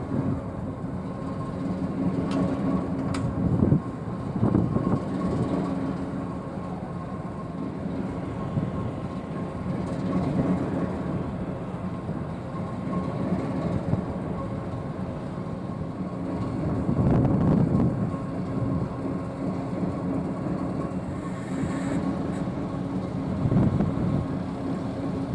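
BR Standard Class 9F steam locomotive 92214 "Leicester City" and a Class 08 diesel shunter running at the Great Central Railway, a low steady engine drone with hissing and periodic louder surges across the whole stretch, fairly close.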